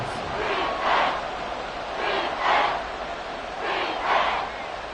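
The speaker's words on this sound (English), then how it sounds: "This crowd trying to force a false start here." Loud football stadium crowd noise during an NFL game, rising in three repeated surging roars as fans try to force a false start on third and inches, with the crowd filling the sound throughout.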